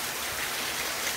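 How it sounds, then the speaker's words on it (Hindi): Heavy rain pours down steadily in a broad, dense hiss with no break, close and enveloping, with no voices over it. "बारिश बहुत ज़्यादा तेज हो रही है यहाँ पे"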